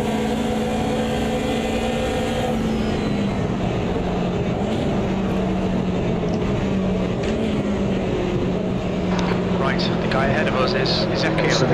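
Racing cars in the sim Automobilista 2, among them a Porsche, a BMW and a Ford Capri, hold a steady loud engine drone with shifting pitch as they run close together, while someone talks over it throughout.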